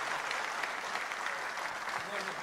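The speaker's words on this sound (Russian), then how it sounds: "Ваш адрес, эти аплодисменты." Studio audience at a televised game show applauds, a steady, dense burst of clapping that fills the whole moment.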